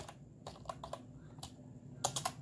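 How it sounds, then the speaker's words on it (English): Short bursts of typing on a computer keyboard, a handful of close, crisp key clicks in an uneven rhythm with a quick cluster of strokes near the end, no voice over them. "type something over here. I typed hello world."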